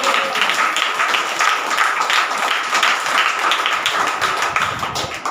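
Church congregation clapping hands together in a steady, dense, continuous rhythm, loud and close, with no talk over it.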